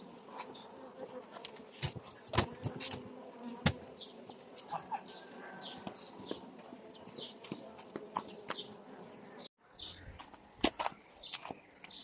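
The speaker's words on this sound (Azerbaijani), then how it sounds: "Mən əsas mərtəbədə olan arılar maraqlıdır hal-hazırda." Carniolan and Caucasian honeybees buzz at an open hive in close, steady droning. Individual bees whine past and sharp knocks and clicks come from handling the hive.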